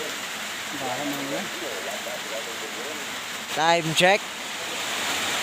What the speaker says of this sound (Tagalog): Inabutan na naman kami ng ulan.